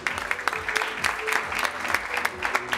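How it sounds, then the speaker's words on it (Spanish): Guests at a Christian wedding celebration in Westbury, Long Island, New York, clap in response to a call from the host, a moderate burst of crowd applause with distinct claps and some voices mixed in. "Denme un fuerte aplauso si lo conocen."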